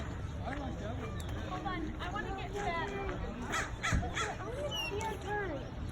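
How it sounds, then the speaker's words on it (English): Crows caw repeatedly while digging through trash near a fence, harsh overlapping calls over steady background noise, with people talking quietly underneath. "One of the crows was starting to dig in the trash."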